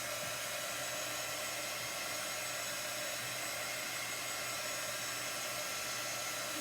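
A hair dryer blows steadily at close range to dry chalk paste. The whoosh stays continuous and even throughout, with no speech.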